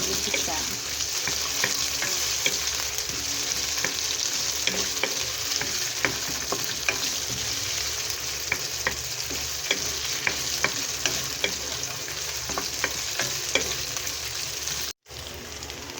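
Tofu and browned garlic are stirred in a hot frying pan, giving continuous crackling sizzle with frequent small spatula clicks and scrapes throughout, close and even.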